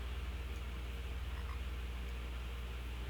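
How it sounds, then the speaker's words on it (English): A frog croaking in a fantasy role-playing game, Tower of Time, heard as a low, rhythmic pulsing croak repeating steadily beneath a constant hiss of ambient game background, faint and with no talk. "I hear a frog, but don't see a frog"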